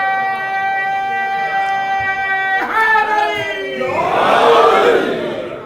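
A majlis crowd bursts into a loud collective salawat chant after a sustained tonal tone, voices swelling together and filling the hall near the end.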